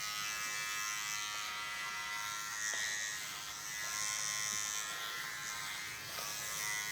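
Electric clippers shaving a person's head, a steady high-pitched buzz that stays fairly quiet and continuous, with slight changes as the blades move across the scalp.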